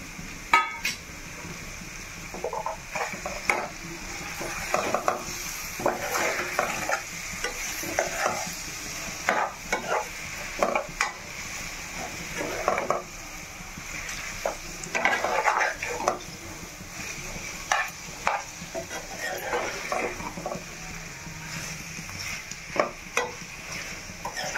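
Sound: boiled eggs frying and being stirred in curry pan

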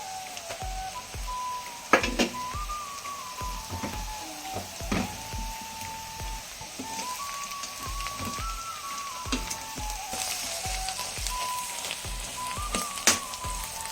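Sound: ground garlic sizzling in pan for garlic pickle

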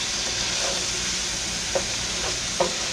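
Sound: stirring spicy beef sizzling in a skillet

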